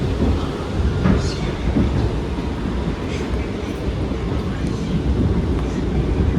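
An R179 subway train on the S line runs toward Rockaway Blvd in New York, filling the car with a loud, continuous rumbling roar of wheels and track, punctuated by faint squeals.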